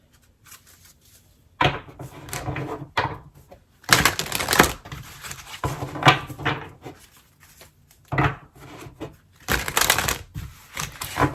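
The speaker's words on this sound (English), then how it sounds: "Let me shuffle these." Tarot cards are shuffled in several brisk bursts, crisp riffling and slapping sounds close by with short pauses between.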